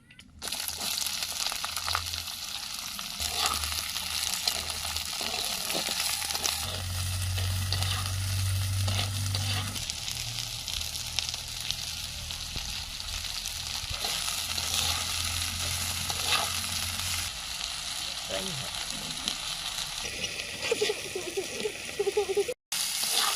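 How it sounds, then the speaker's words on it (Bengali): Black cumin and dried red chilies crackle and sizzle in hot oil as a tempering for a dry village-style vegetable dish, a dense close frying hiss with stirring scrapes running throughout. "কালো জিরের ফোড়ন দিয়ে দেবো"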